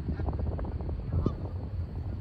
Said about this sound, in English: Nobody owns these geese.